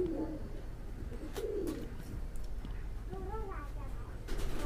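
Domestic pigeons in a rooftop loft give a few soft, low coos, fairly close, with a person talking over them and steady background hum.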